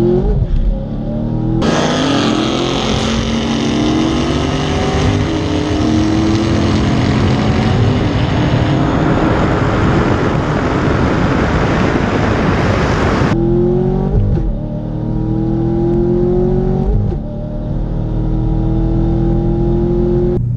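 A supercharged 2017 Camaro SS at a drag strip roars loudly under heavy acceleration for about ten seconds, engine pitch rising through gear changes, then cuts off abruptly and continues as a lighter revving drone with further shifts.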